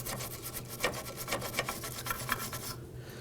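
A bristle brush scrubs rusty 8mm bolt heads on the brakes of a 2008-2011 Ford Focus, making quick rhythmic raspy strokes, close and quiet, that stop near the end.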